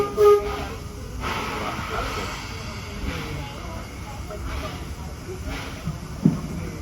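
Train pulling away from a station at Greenfield Village, a steady low rumble and hiss with a brief whistle-like tone near the start, heard from aboard with a quiet voice over the noise.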